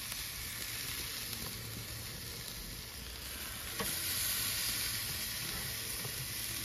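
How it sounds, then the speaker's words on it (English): Teriyaki steaks, tied up, sizzling and searing on a Santa Maria grill, a steady dense hiss and crackle with a slight swell partway through, no talking. "It's already sizzling."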